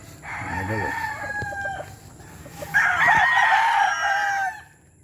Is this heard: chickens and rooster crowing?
yes